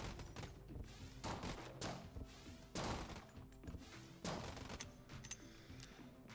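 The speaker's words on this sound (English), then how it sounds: "I'll stop shooting in your store" Repeated bursts of gunfire from shooting in the video game Enter the Gungeon, sharp cracking volleys in irregular clusters with thuds between, fairly faint overall.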